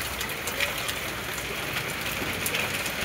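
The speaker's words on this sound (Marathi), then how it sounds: "आमच्याकडे येत आहे आता पाऊस. तर तुम्ही बघू शकता किती ताकदमध्ये येत आहे." A heavy late-afternoon downpour beats steadily on surfaces nearby, a dense even hiss with faint scattered drop impacts and no voices over it.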